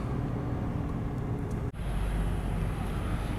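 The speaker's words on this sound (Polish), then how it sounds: "Otworzyłem teraz szybę, żebyśmy mogli posłuchać tego silnika." A 4.0 TFSI V8 in an Audi S8 runs at steady speed, a deep continuous engine rumble with road and wind noise that swells slightly after a brief dip as a window opens, close and without speech.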